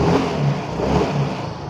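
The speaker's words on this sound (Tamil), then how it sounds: "பைக் பக்காவாக ஸ்டார்ட் ஆகுது" A Yamaha Fascino BS6 scooter engine running after a self-start, a steady, loud, close mid-pitched hum with slight revving swells and no talk.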